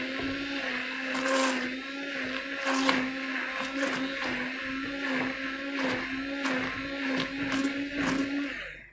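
An electric blender whirs through an eggless caramel custard mixture made with condensed milk, a continuous droning motor hum with churning texture, loud and close, sustained for the whole stretch without speech.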